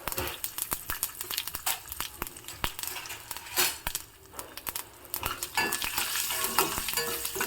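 Crackling sizzle of peanuts and curry leaves frying in hot oil as a tempering, dense and continuous, with occasional stirring scrapes and clinks.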